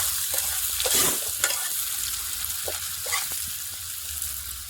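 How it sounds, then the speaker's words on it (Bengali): Onions fried until reddish and stirred in a pan for a spicy home-style curry, with a steady close sizzle broken by scraping stirs and spatula knocks, no voices. "পেঁয়াজ লাল লাল করে ভেজে নিয়েছি"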